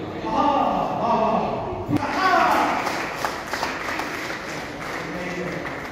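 Audience applause at a Hindi poetry gathering in Moradabad, a steady wash of clapping from a crowd with a voice speaking over it through much of the clip.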